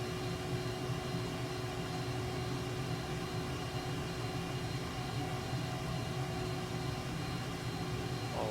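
A MiG-29 jet taxis in Microsoft Flight Simulator, its engine giving a steady, even whine and rumble that holds constant throughout, no voices.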